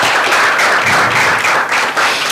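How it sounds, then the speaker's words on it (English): A conference audience gives a dense, steady round of applause for a presenter at an insurtech business event, many hands clapping close and loud without pause for the whole stretch. "Round of applause for Peter."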